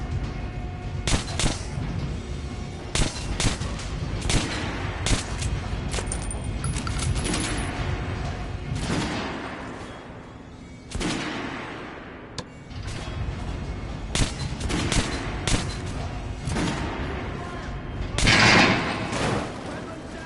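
Video game gunfire on a shooting-range training course, a long run of sharp shots and bursts with short pauses, loud and close, with a drill instructor's voice shouting over parts of it.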